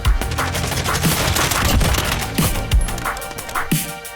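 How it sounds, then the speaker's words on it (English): Suppressed AS VAL rifle with subsonic 9x39 ammunition and a large suppressor firing in Modern Warfare, a rapid run of muffled thumping shots at close range, loud and continuous with a few distinct heavier reports. "The subsonic 9x39 ammo combined with the enormous suppressor make it a very quiet firing gun."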